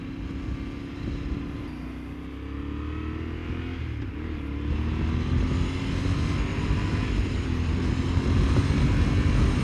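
Yamaha Tenere 700 motorcycle engine drones steadily from the rider's position under a constant rush of wind, the engine note rising slightly in pitch as speed builds.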